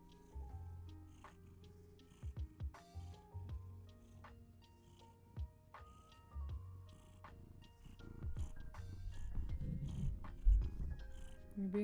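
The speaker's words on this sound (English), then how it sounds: "Sorry, my cat needs some attention." Ronan, a big pet cat, purrs low and close for several seconds, a steady rumble with occasional soft rustles and small sounds over it.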